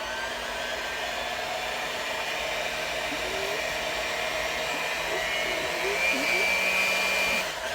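An electric mixer whirs on low through mashed black sapote fruit, a steady motor hum with small pitch wobbles, swelling slightly louder near the end before cutting off.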